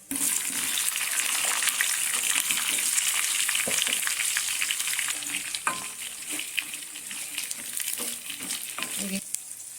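Chopped onions frying in a pan for Hyderabadi-style paneer butter masala, giving a steady bright sizzle with irregular crackles and small stirring clicks, close and even in level with no talk.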